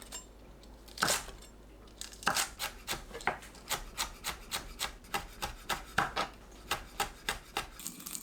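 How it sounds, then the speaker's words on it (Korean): Red chili peppers being finely cut with a knife on a cutting board, a quick, even run of crisp chopping strikes after a few separate opening cuts, close and clear with no talking. "홍고추를 작게 썰어주세요."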